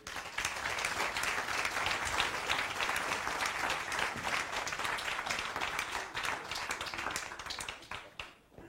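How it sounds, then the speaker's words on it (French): A conference audience claps to welcome two invited guests. The dense, even applause runs loud and sustained for about eight seconds before tapering off at the end. "Amélie Dalmazo et David Lermite, sous vos applaudissements, s'il vous plaît."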